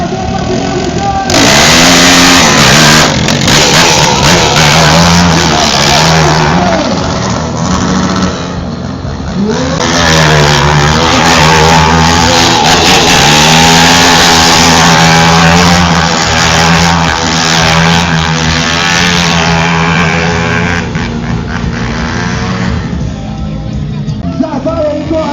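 A motorcycle engine revving hard at a motorcyclists' meet in Votuporanga, loud and close, with sustained rising and falling throttle blips over about twenty-five seconds.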